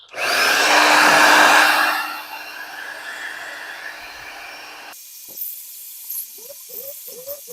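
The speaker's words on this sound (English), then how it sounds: "I'm gonna speed up the drying process here with a hair dryer." A hair dryer blows a steady, loud whir for about two seconds while drying a synthesizer circuit board, then drops to a softer hum while faint clicks and handling noises follow.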